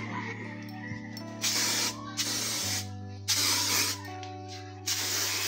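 A mosquito insecticide spray hissing in four separate bursts, each a second or so long, over a steady low background hum, close by.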